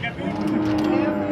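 A fierce bull at a livestock market in Tabira lets out a loud, drawn-out moo up close, with crowd noise around it.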